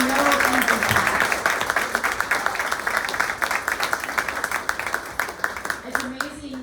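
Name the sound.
audience applause at a dinner event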